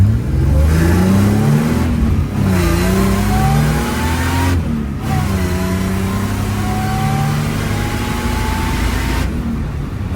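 A car with a Gen 5 M90 supercharger accelerates hard with its exhaust closed, its engine climbing in pitch through several gear shifts with brief dips between, loud and close with a muffled exhaust.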